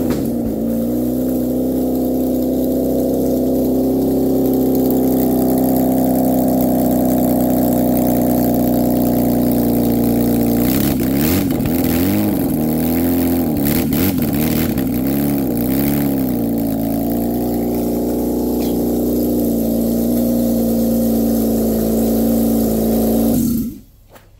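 A Toyota 2JZ engine in a kart running FuelTech management holds a loud, steady idle, then revs in several quick blips before settling back and cutting off abruptly at the end.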